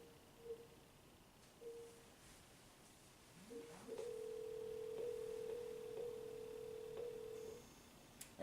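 A mobile call rings out through an Amazon Echo smart speaker: a couple of short tone blips, then one long steady ringback tone of about three and a half seconds, fairly clear over a quiet room.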